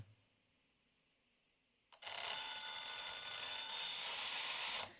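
A small transmission servo in an Axial SCX10 III Jeep Gladiator RC crawler whirs into motion with a sudden high mechanical buzz of gears that holds steady for about three seconds, then stops.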